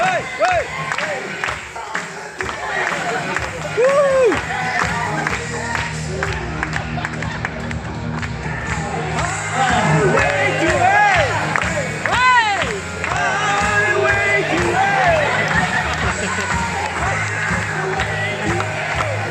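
An audience claps and cheers for performers at a 50th-birthday show, a continuous loud wash of applause with whoops and shouts running the whole length, voices calling out over it.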